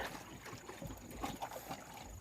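Strong wind outdoors beside the Mekong River during a fishing trip: steady, blustery wind rumbling and buffeting the microphone throughout, with no speech.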